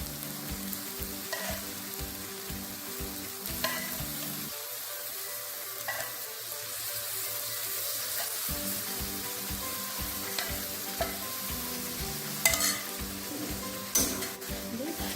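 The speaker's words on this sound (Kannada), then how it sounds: "ಈಗ ಬೇಯಿಸ್ಕೊಂಡು ಇಟ್ಟಿರುವಂಥ ದಾಲ್ ಹಾಕ್ಕೊಳ್ಳೋಣ" Cooked dal tipped into a tomato tadka in a pan and stirred, with a steady sizzle and repeated scraping stir strokes that briefly quiet in the middle before the frying and stirring resume.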